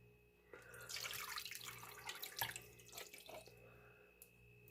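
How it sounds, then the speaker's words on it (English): Water from a kitchen tap runs into a can, splashing and gurgling steadily for a few seconds and then stopping, fairly faint and close, with no talking. "just filling up the can with water so I can get a lot of that chicken out of there"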